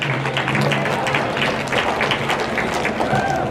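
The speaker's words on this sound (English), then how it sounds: "let's give each and every one of these young showmen out here in the drive a round of applause" A crowd at a county livestock show applauds young showmen, a dense, steady wash of clapping that holds evenly throughout at moderate loudness.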